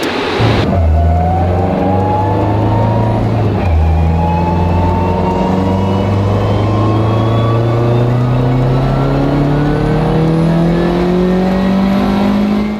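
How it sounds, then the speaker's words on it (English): Boosted Honda engine on a dyno at an 18 PSI boost target, revving loud and close in one long rising pull after a brief drop, the pitch climbing steadily with no talk over it. "That last pull made 500 wheel, and it blew out an intake manifold bolt."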